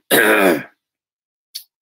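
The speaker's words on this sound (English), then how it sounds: "As I clear my throat, let's keep on going." A single throat clearing, close and fairly loud, lasting about half a second, followed by a brief soft breath or click after a pause of silence.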